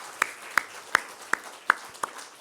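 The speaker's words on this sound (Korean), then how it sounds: "우리 지훈이 위해서도 크게 한 박수로 환영하겠습니다" A church congregation at a Sunday service claps together to welcome a student, giving six sharp, evenly spaced claps in a steady rhythm with no talking.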